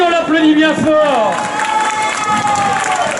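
Crowd at the Chevaliers Vs Barbares spectacle in Angers cheering and clapping loudly for a barbarian warrior, high shouts and whoops rising over a continuous bed of applause.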